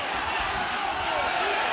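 Arena crowd at a ONE Championship MMA bout roars in a steady, dense wash of cheering, loud and continuous throughout with no distinct voices standing out.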